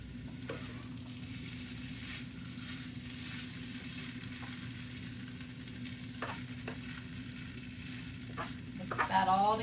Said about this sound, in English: I'm going to add some regular soy sauce now.